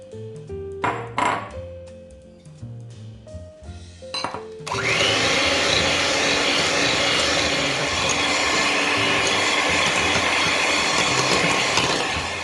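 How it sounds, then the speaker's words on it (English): Electric mixer beating egg yolks and sugar for a custard cake, starting after a few seconds of lighter kitchen clatter and then running as a loud, steady whirring drone for the rest of the clip. "Now we are going to add our both eggs and sugar and beat them till they've doubled in size."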